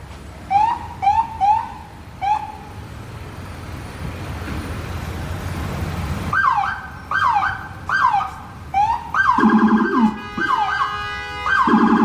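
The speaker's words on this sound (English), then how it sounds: "An NYPD unit had to push through over 2 minutes of heavy traffic using a rare high-low siren and the PA system." An NYPD police car sounds a high-low siren while pushing through heavy city traffic, with repeated two-tone wails and short whoops that start in bursts, pause, then return louder and fuller near the end.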